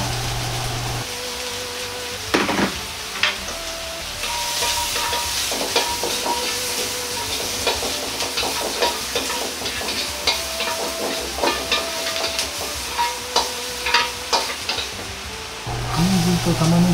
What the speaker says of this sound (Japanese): まずはニンニク、生姜を入れ炒めます